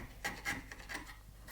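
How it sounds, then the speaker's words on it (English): A chisel is pared by hand across wood while cutting a mortise and tenon joint, giving soft, close scraping strokes, two stronger ones early and a lighter one later, with a quiet background and no talk. "I'm running the back of the chisel flat on the wood here"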